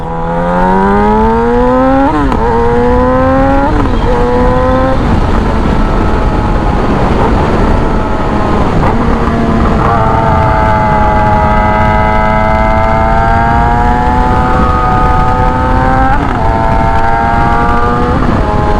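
A Yamaha YZF R6 sport bike roars loudly through repeated climbing revs and gear shifts while being ridden, the engine pitch rising and dropping close up with constant wind rush.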